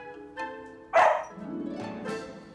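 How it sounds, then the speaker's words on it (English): Dog barking at its own reflection indoors, two or three sharp, close barks with a whiny, yelping edge, alone without talk. "He's barking, right?"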